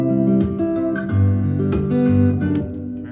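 Acoustic guitar recorded through a microphone playing a steady strummed and picked passage, full and close, with bright string attacks and no voices.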